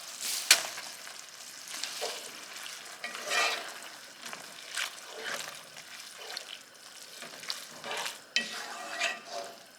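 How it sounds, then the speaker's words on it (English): Cooked spaghetti noodles hit a hot pan and are stirred about, giving quiet, uneven scraping and sizzling bursts close by with no voices. "We'll add in our cooked spaghetti noodles."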